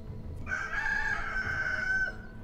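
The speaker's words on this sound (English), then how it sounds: "Why do I hear chickens?" A rooster crows once in Crusader Kings II, a long, drawn-out cock-a-doodle-doo that rises clearly over a low, steady game background and fades near the end.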